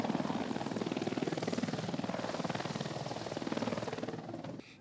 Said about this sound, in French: Nous prenons place à bord de l'hélicoptère.